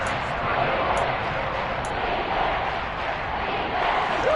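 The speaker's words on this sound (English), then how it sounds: "The crowd getting into it as we come up on a big 3rd down" A football stadium crowd roars and cheers ahead of a big third down, a dense, sustained wall of distant voices at steady high volume with a few sharp whistles on top.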